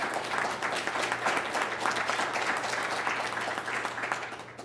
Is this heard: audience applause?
yes